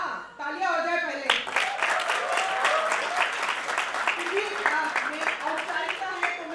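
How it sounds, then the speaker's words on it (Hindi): An audience applauds for actor Sushant Singh Rajput at a live event, a steady burst of dense clapping that starts abruptly and holds loud throughout, with voices faintly mixed in. "तालियां हो जाए पहले"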